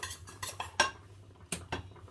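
A simple metal spoon stirring sugar into a sauce in a bowl, giving a few sharp clinks and scrapes against the dish at an irregular pace, close up and without talk.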